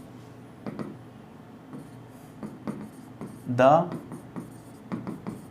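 During a classroom lecture, short separate strokes are written on a board in an irregular rhythm, with a brief spoken word in the middle.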